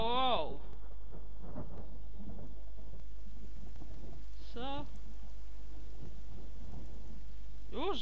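Thunderstorm with rain in the survival game The Forest, a steady wash of rainfall with a low rumble of thunder, broken by a few short chirping calls and a brief word spoken over it.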